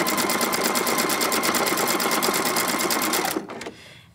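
A PFAFF Creative Icon sewing machine stitches ribbon in a fast, steady mechanical rattle of needle strokes, loud and close, running evenly before stopping abruptly near the end.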